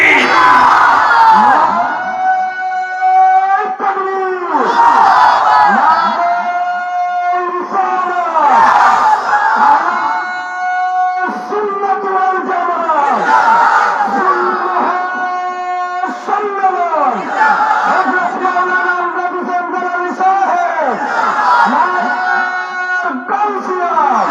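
A large crowd at a religious sermon gathering loudly chants the takbir in unison, answering a call in repeated rhythmic waves of many voices, each burst rising and falling, close and powerful for the whole stretch.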